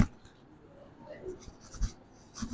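Chalk or pen writing math on a board or paper during a 12th-class math lesson: faint, close scratching strokes in short irregular bursts with soft taps, quiet overall with no speech.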